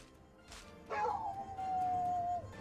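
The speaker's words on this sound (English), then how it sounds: "Kushi, is that your dog?" A dog in the video game Indivisible gives a short bark and then a sustained rising-and-falling howl lasting over a second, close and clear over faint game background.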